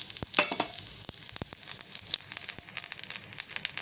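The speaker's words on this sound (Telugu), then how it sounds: "ఆయిల్ అయితే హీట్ ఎక్కింది. కొద్దిగా ఆవాలు, జీలకర్ర, ఎండుమిరపకాయనండి." Mustard seeds, cumin and dried red chillies sizzle and crackle in hot oil in a pan, with sharp popping spits scattered over a steady frying hiss, close and fairly loud.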